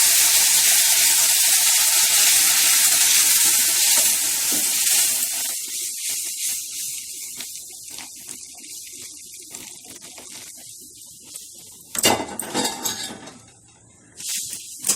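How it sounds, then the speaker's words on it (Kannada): Hot milk mixed with water is poured into ghee-roasted semolina, setting off a loud hissing sizzle that fades over several seconds, followed by a few sharp stirring knocks against the pan. "ಈಗ ಕಾಯ್ದಿರೋಂಥ ಹಾಲು ಅಥವಾ ನೀರು ಎರಡು ಮಿಕ್ಸ್ ಮಾಡಿದ್ವಲ್ಲ ಅದನ್ನು ಹಾಕೊಂಡು"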